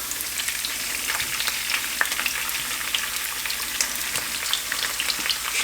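Squid pieces, scored crisscross and laid cut side down, fry in a hot pan with garlic in the Greek style, giving a steady, close sizzle dotted with small crackles and pops throughout.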